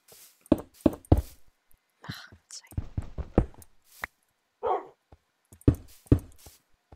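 Several sharp dog barks from Minecraft arrive in short bursts, spaced apart, mixed with quiet whimpers and softer sounds, alongside a player talking quietly.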